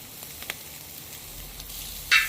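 Butter sizzling in an El Disco pan for a seafood stir fry: a faint, steady hiss with a few light crackles and a brief brighter spatter near the end.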